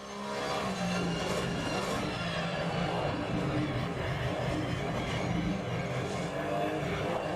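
Porsche Cup race car engine in a GT3 sim racing game at Misano, a loud steady roar with buzzy harmonics and shifting revs, running continuously with no talking.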